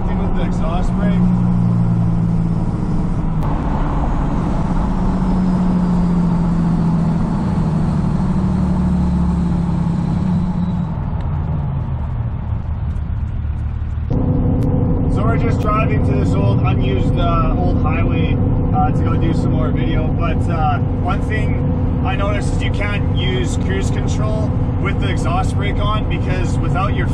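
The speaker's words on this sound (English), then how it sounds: "Now I'm just downshifting with the exhaust brake." A 5.9 Cummins diesel truck fitted with a VGT turbo and BD Howler kit, running its exhaust brake while downshifting: a loud, steady low drone that shifts pitch partway through, with a speaking voice over the engine.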